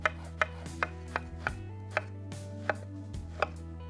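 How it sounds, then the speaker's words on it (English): A knife chops a long, plump aubergine into little cubes on a board, with about nine crisp, evenly spaced strikes heard alone over a low hum. "I have here a nice, long, plump aubergine. I'm going to cut this into little cubes"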